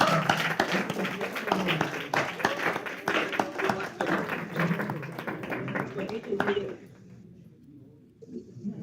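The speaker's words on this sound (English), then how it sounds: "huge round of applause" An audience at a hackathon applauds, a dense patter of clapping that lasts several seconds and then stops abruptly, leaving a quiet room.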